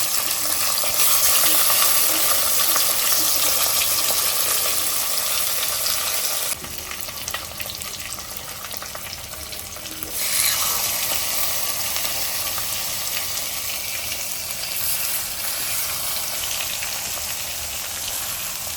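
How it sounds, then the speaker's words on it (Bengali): Hilsa fish pieces frying in hot oil in a pan, a loud continuous sizzle close by that dips briefly as more fish goes in, then keeps crackling steadily without talk. "এবার আস্তে আস্তে আমাদের এই সব মাছগুলোকে দিয়ে দিতে হবে"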